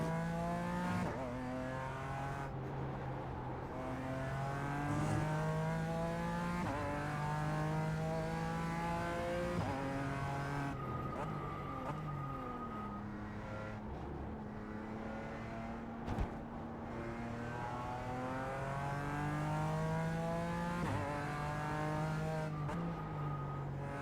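Race car in a racing video game lapping the Nurburgring Nordschleife, its engine revving loudly and continuously through repeated upshifts and downshifts, with rising and falling pitch sweeps and an occasional tire squeal.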